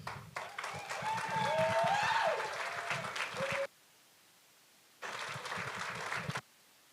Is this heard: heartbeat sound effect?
no